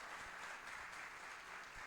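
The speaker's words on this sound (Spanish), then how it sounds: "Dele un fuerte aplauso al Rey de Gloria." A church congregation applauds steadily through the whole stretch, a dense, even wash of many hands clapping at a fairly faint level with no talk over it.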